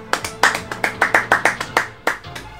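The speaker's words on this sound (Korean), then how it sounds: "박수 한번 보내주시기 바랍니다" A brief burst of hand clapping from a small group, sharp claps in a quick, slightly uneven rhythm, close by, tapering off after a couple of seconds.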